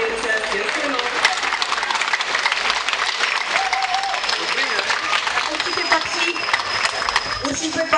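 Steady, loud audience applause for a bagpipe band at an outdoor summer folk music evening, dense clapping throughout with faint murmurs in the crowd.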